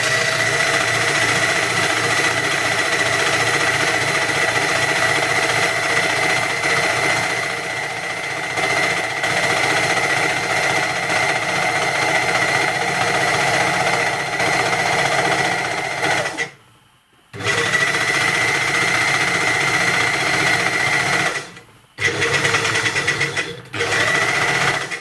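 A Janome New Home sewing machine stitches fabric for a keyboard dust cover with a loud, steady mechanical whir and needle chatter, stopping briefly twice before running on.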